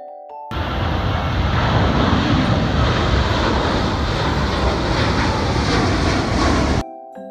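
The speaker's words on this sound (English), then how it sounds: "J for jet." A loud jet airplane roars steadily for about six seconds, a broad dense rushing engine noise that starts and cuts off abruptly, with no talking over it.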